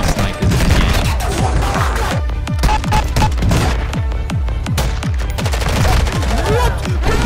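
Dense sniper rifle fire in the video game Warzone 2, rapid booming shots one after another in a continuous loud barrage with echoing tails, almost no gap between reports.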